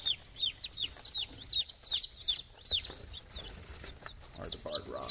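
Newly arrived baby chicks from a hatchery, including barred rocks, peep in rapid high-pitched chirps, several overlapping in quick bursts, close by over a low background rumble.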